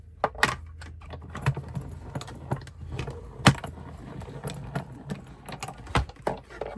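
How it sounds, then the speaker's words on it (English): A die-cutting machine presses a small circle from basic white cardstock, producing irregular close clicks and ratcheting knocks as the plates crank through, with no speech. "We're just gonna go ahead and die cut this out."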